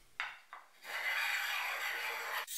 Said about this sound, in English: I'm easing over the edges with a block plane